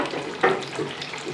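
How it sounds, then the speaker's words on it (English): Stew with broken fish bubbling in a pot gives a steady simmering hiss, with a single clink of a spoon against the pot as it is stirred. "Then I'll give it a stir."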